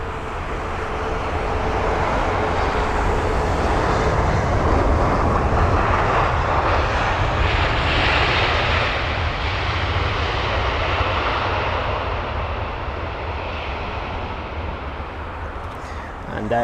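A 12-year-old jet airliner in Retrojet livery, registration EI-DVM, roars loudly and continuously at an airport, the engine noise swelling and then slowly easing.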